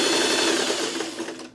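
Close, loud sewing machine running at a steady regular speed as it stitches small fabric scraps, a continuous whirring buzz that fades out at the end, with no voices.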